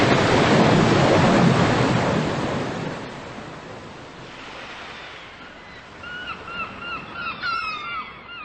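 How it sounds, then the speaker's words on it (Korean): Heavy storm waves surge and crash over a sandy shore into stone walls, a loud roaring wash that gradually subsides, with a few bird calls cutting through near the end. "파도는 모래톱을 넘어 돌각담을 삼키고 몇몇 집을 휩쓸었다."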